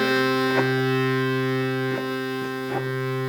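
A harmonium's higher reed set gives a steady, buzzy drone holding a sustained chord with a nasal, raspy edge from a faulty buzzing reed, close and continuous, with faint clicks as keys shift.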